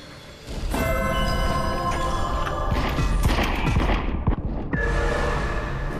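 Gunfire in The Light Brigade, a VR shooter, rings out as a run of sharp, close shots with clanging metallic tones over a loud, busy battle background, with no talking.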